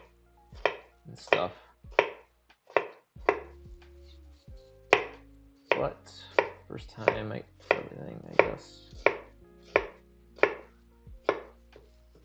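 A knife chops food on a cutting board while pizza and pickles are being made, with about twenty crisp knocks in an uneven rhythm, close and clear, while a person speaks briefly.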